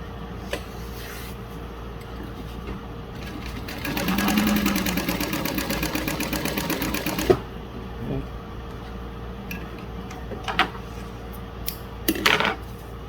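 A Juki DU-1181N walking-foot sewing machine stitching waterproof canvas runs in a steady, rapid mechanical whir for about three seconds, surrounded by quieter handling clicks and rustles.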